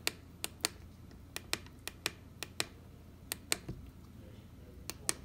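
Password keys pressed on a Nemo 96 HD power meter: about a dozen sharp, separate clicks at an irregular pace, close and clear over a quiet background, with no talking.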